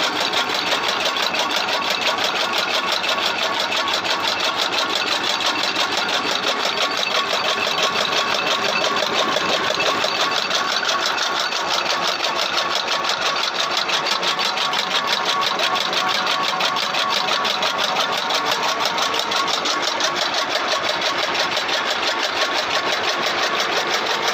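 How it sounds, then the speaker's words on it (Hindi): A motor-driven fodder chopper runs steadily in a village home in Pakistan, giving a loud, continuous mechanical whir with a fast, even rattle that holds without pause for the whole stretch. "अगर मैं इसको यहाँ से कर देता हूँ ऑन, तो इस तरह ये चलना शुरू हो जाता है।"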